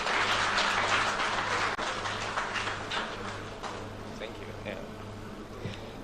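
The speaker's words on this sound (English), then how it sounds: "Let's receive him with a round of applause." Audience applause at a town hall meeting on the e-levy in Ho, Volta Region, welcoming the Minister for Railway Development; sustained dense clapping fills the room, fading slightly toward the end, with a steady low hum beneath.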